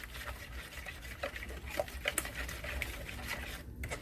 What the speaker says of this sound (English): now I'm just going to get all this stirred up and mixed pretty good.